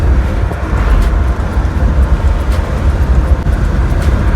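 A Jeep WJ drives down a road with a loud, steady low rumble of engine and tire noise. The drone runs continuously without a break.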